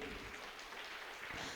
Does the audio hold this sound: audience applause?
yes